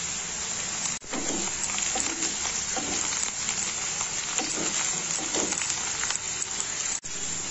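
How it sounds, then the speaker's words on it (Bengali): Chopped onion greens and slit green chillies fry in hot oil for a Bengali morola fish chachchari, a loud, steady, close sizzle that continues with only two brief breaks. "পেঁয়াজকলি গুলো একটু ভেজে নেব।"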